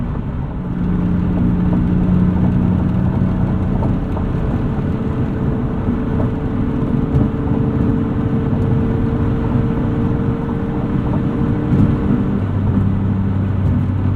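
A high-mileage BMW E36 M3 with the S52 engine, 260,000 miles on it, cruises at about 3,800 to 4,000 RPM, giving a steady, loud droning hum with road noise throughout and no talk.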